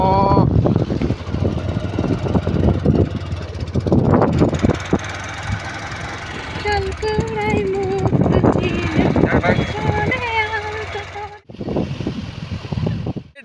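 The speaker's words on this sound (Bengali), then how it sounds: "আমরা যাচ্ছি বিচের উপর দিয়ে, জলের মধ্য দিয়ে" A motorbike rides along the sea beach at Talsari and splashes through shallow sea water, its engine droning steadily and close throughout, with a short dip near the end.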